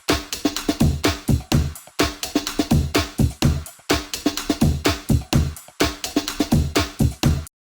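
Layered bass house drum loops stack a breakbeat with claps, hi-hats and extra percussion, playing loud and busy in a steady repeating groove with brief gaps between bars.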